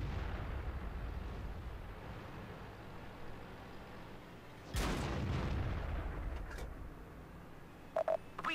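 Tank cannon fire in a World of Tanks style battle on the Erlenberg map, with an E50 trading shots against an IS-7 and a Conqueror: a sudden heavy boom rises over steady battle rumble, followed by short clicks.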